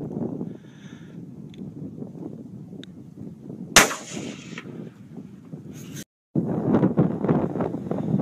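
A Savage B-Mag rifle fires while being sighted in at 100 yards outdoors: one sharp, loud shot cracks out mid-clip, and a second shot follows moments later, with steady wind buffeting the microphone throughout.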